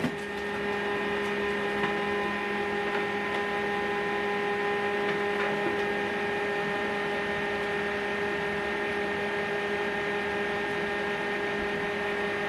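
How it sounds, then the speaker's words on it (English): An HP LaserJet MFP M140WE printer setting itself up after a new toner cartridge is installed gives a steady, close mechanical hum with a constant tonal whine that holds unchanged for the whole stretch, with no talk. "just gently close it and give this printer time to set up,"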